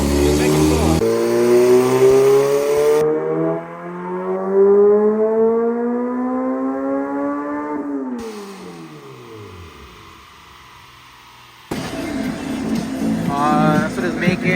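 A fully built turbocharged Honda Civic engine revs on a dyno, its pitch sweeping steadily upward in a loud, harmonic-rich wail, then winding down and dropping away before a burst of noise resumes.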